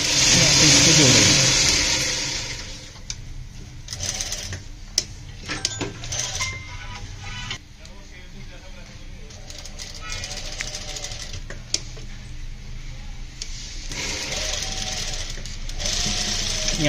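A sewing machine runs in stop-start bursts, stitching a zip and buckram onto the back of a Punjabi suit, with its mechanical whir and ticking heard under a person talking throughout.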